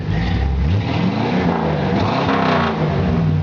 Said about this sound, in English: Got a killer sounding engine.